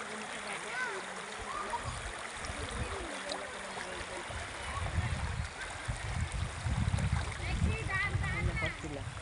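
Strong current of the Lipit River rushing and splashing close by, a steady broad wash of water that thickens with deeper churning toward the end, while voices talk over it.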